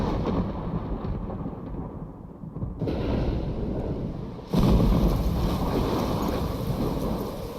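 Stormy wind and crashing waves from the Life is Strange video game roar steadily, then surge louder and fuller partway through, a continuous blustery wash of surf with no voices.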